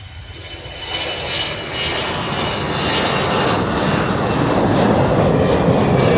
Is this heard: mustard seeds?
no